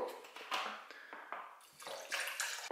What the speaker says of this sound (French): Je vais ajouter de l'eau jusqu'au deuxième trait.